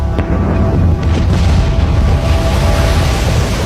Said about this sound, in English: A series of booms could be heard hundreds of miles away.